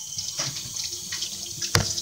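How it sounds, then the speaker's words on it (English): Tap water runs steadily into a kitchen sink while hands are washed beneath it during sweet potato pie baking, a continuous close splashing hiss with a brief sharper splash near the end; no talking. "I'm going over here and wash my hands because you know how eggs are."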